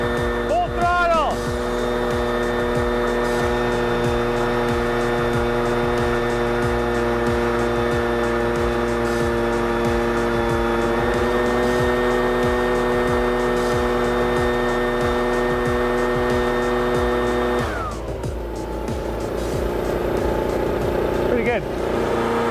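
A Mavic 2 Pro drone runs at full throttle, its motors holding a steady, loud, whining drone with sustained tonal hum for about twenty seconds before pitch dips briefly and recovers.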